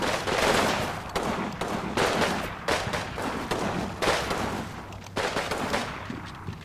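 Enemy soldiers firing in a video game training campaign: repeated bursts of gunfire in several loud volleys, overlapping and sustained with short gaps, no talk.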